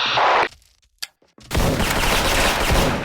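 Explosion in a first-person shooter game: a loud burst of blast noise, then near silence with a brief crack, followed by a sustained heavy rumble of debris and gunfire-like noise filling the rest.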